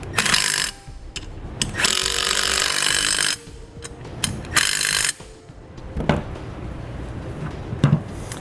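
A ratchet wrench tightens short bolts on a SumoSprings Maxim helper spring bracket for a 2016 vehicle, clicking in fast, loud bursts of several seconds with short pauses between strokes, close up and alone.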